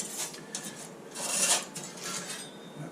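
A metal wheel arch repair panel on a Rover P5B Coupe is deburred, giving close, uneven rasping and scraping strokes that rise to a louder pass in the middle.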